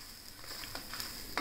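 Chutney powder ingredients roasting in a pan over a low flame, a soft continuous sizzle with light scraping stirs, faint and close, no voices.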